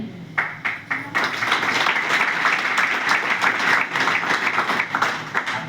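Seminar audience in Haridwar breaking into sustained applause, a dense wash of many hands clapping steadily throughout, fairly loud, with a few separate claps standing out at the start.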